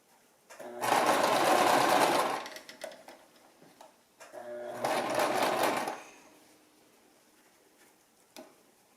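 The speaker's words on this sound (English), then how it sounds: "So I'm just gently sewing." A home sewing machine, with a section removed for free-arm work, gently stitches a small round baby hat in two bursts of about one and a half seconds each, close and clear, with faint handling clicks between.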